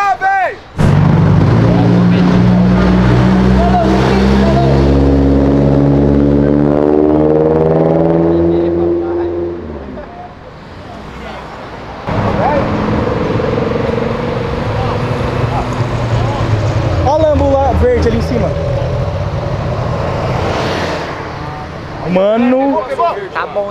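A Ferrari engine revs hard and bounces off its rev limiter, giving loud, rapid stuttering cuts that rise and fall in pitch over long sustained runs, close to the listener, with voices talking over it.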